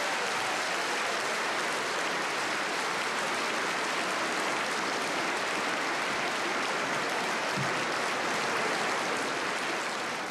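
Sustained audience applause for the Australian Prime Minister's speech, a broad, continuous wash of many hands clapping at steady volume, heard alone with no voices over it.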